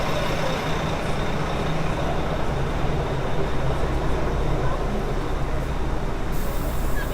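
A bus rumbles past on a Midtown Manhattan street, a loud, steady broadband engine and road roar filling the scene for several seconds amid city traffic noise.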